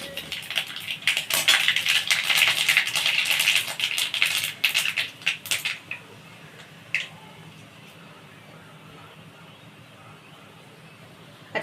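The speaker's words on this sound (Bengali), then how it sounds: "এবারে দেখুন আমি ফোড়নগুলো দিচ্ছি সাদা তেলে। এখানে আছে সর্ষে, কারি পাতা আর শুকনো লঙ্কা আমি দিয়ে দিলাম এর মধ্যে।" Mustard seeds, curry leaves and dried chillies crackle and spit in hot refined oil, a busy close sizzle that fades after a few seconds to a quiet hiss with an occasional pop.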